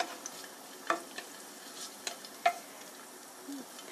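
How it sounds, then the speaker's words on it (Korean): Garlic fries in a small amount of oil in a pan, giving a faint, steady sizzle broken by a few soft ticks and pops, with no talking. "이렇게 하면 마늘이 타지도 않고 노릇노릇하게 잘 튀겨지거든요"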